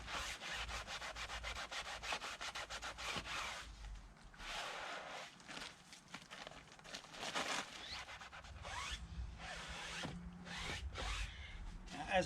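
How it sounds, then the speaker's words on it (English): Sponge rubbing and scrubbing over the outer hull of an ITIWIT kayak, a steady run of close, rough scrapes and swishes with short pauses between strokes. "give the outside a bit of a sponge off"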